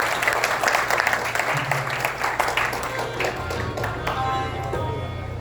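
Audience at a satsang welcome event in Manila applauding Maharaj ji, a continuous wash of clapping over a low steady hum, loud and sustained before gradually thinning out.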